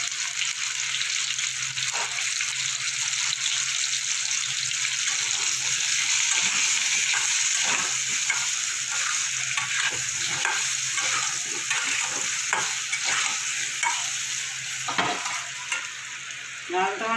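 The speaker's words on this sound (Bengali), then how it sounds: "ভাজা হচ্ছে" Onions frying in a pan with a little salt and turmeric, a loud continuous sizzle that runs throughout, with frequent stirring scrapes and clinks close by.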